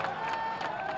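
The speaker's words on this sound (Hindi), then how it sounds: "जोरदार ताली" A crowd at the inauguration of a city gas station, CNG station and oxygen plants in Khanipur, Gorakhpur, breaking into a short burst of moderately loud, dense clapping.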